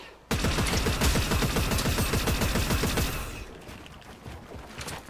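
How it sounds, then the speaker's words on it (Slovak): Sustained automatic gunfire from an enemy in a shooting video game rattles loudly in a rapid, even burst for about three seconds, then fades into quieter background game noise. "typek po mne strieľa"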